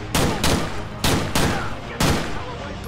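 Police gunshots in GTA IV ring out as several loud separate bursts spread over a few seconds, sharp and close, with rumbling gaps between them.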